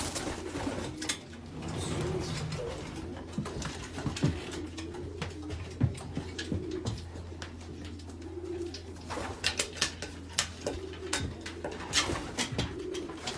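Racing pigeons coo repeatedly in a loft, a steady chorus of soft, throaty calls close by, layered over a constant low hum with occasional flutters and clicks.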